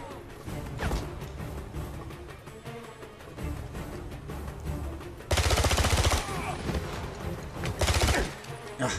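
Gunfire from the game 007: Blood Stone, a fast burst of loud automatic shots, sharpest in the back half of the stretch, over game music and effects.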